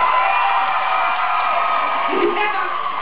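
Audience at a live comedy-style chat show in Atlanta cheers and whoops, a continuous crowd roar with shouted voices rising and falling, fairly loud and close.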